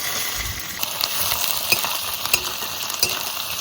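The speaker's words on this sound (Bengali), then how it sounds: "পেঁয়াজ হালকা আছে ভাজবো, তাহলে ভাজাটা ভালো হবে।" Onions frying in oil with bay leaf, cumin, cinnamon, cardamom and cloves for a mutton curry in a village kitchen, a steady hiss of sizzling under occasional stirring clicks and scrapes, close and moderately loud, with no talk.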